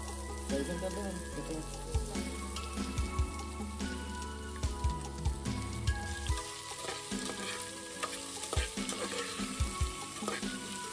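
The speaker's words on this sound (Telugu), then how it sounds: "ఆనియన్స్ వేసుకుని వాటితో పాటు పచ్చిమిర్చి కూడా వేసేసుకుని వాటిని కూడా కాసేపు ఫ్రై చేసేసేయాలి" Onions and green chillies fry in a pan with a steady, loud sizzle and crackle, broken by occasional scrapes and knocks of a stirring utensil against the pan.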